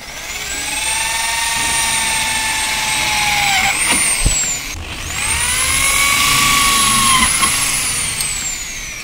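A power tool whirs while a number plate is riveted onto a 100 cc motorbike: two long, loud whining runs that sweep up in pitch, with a short break and a small knock between them.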